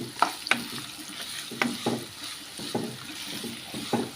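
Chopped onions fry in a pan on the way to browning for a creamy garlic mushroom dish, a soft hiss under repeated scraping stirs of a spatula, close up, with no talking.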